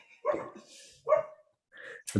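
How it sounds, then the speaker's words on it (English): A pet dog barking indoors, a few sharp, close barks spread over about two seconds with short pauses between them, the last one abrupt and loud. "Can you hear my dog?"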